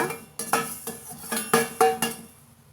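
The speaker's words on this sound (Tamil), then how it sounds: "கொஞ்சமாக வெந்தயம் மட்டும் இப்போ நான் வறுத்துக்கிறேங்க" Fenugreek seeds dry roasting in a pan, heard as a series of close, bright rattling scrapes and clinks as they are stirred, roughly six sharp bursts in under three seconds, with no talk.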